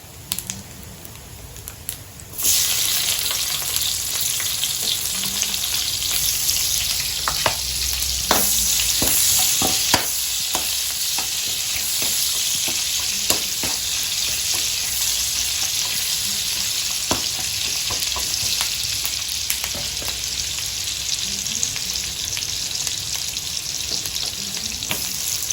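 Food sizzles steadily in a pan with plenty of oil, a loud, bright hiss that flares up as ingredients go in, with occasional clinks and scrapes of stirring throughout.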